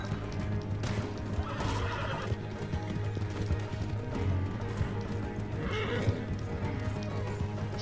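In Red Dead Redemption, a horse whinnies sharply twice amid a steady clip-clop of hooves and rumbling game ambience, loud and close, with no speech.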